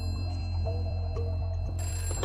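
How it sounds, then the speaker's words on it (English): A telephone rings indoors in a sheriff's office in the afternoon, a steady electronic ring repeating over a constant low hum, with no voices. "and the phone rings"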